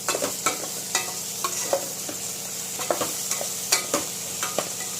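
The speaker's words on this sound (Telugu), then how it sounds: "ఒకసారి ఇట్లా తిప్పేసేసి మళ్ళీ మూత పెట్టండి." A spoon stirs okra in a pan, scraping and tapping the metal in an irregular rhythm over a steady low sizzle of cooking, close up with no talk.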